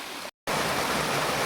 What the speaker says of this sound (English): we finally arrived at Deer Creek Spring. Gotta love that fresh spring water.